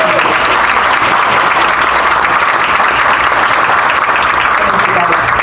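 Loud, dense round of applause from people at a group meeting, continuous clapping filling the room for the whole stretch without a break.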